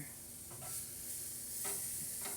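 A sirloin tip roast sizzles on a hot grill at about 350 degrees, a quiet, steady frying hiss with a few soft crackles and brief flare-ups.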